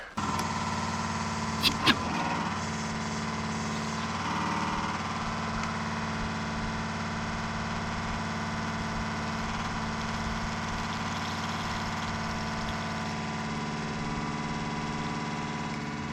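A farm engine idles steadily with a constant mid and low rumble for the whole stretch, joined by a couple of sharp knocks early on.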